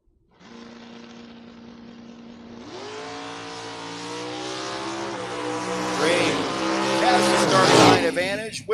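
A door car, the Disco Nova, launches at a drag race, its engine rising from idle to a loud revving howl with tire squeal, while an announcer talks over it.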